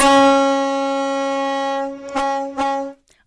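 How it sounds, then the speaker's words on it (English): A Washington State Ferry horn sounds one long, loud, steady blast lasting nearly three seconds before cutting off, with a couple of brief clicks near the end. "that is a Washington State Ferry horn"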